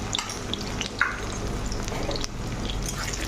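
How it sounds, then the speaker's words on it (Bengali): Chopped onions and bay leaves frying in hot oil with a little ghee, a steady close sizzle with faint stirring clicks throughout, no voices. "পেঁয়াজটা লাল করে ভেজে নেব।"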